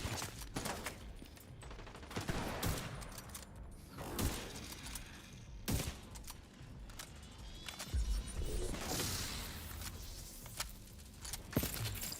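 Rapid bursts of video-game gunfire crackle through a busy, dense mix of repeated shots and mechanical clatter, with sharp transients scattered across the whole stretch.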